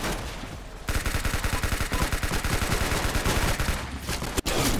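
Rapid automatic gunfire from the Roblox game Arsenal, a dense stream of close shots with a brief pause and a sharp final report near the end, no talking.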